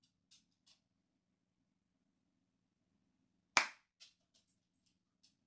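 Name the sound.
single hand clap to sync audio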